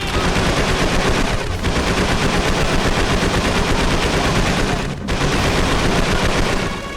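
Sustained machine gun fire in the PS2 game Call of Duty 3 rattles loud and close in rapid continuous bursts, with one brief break before the firing resumes.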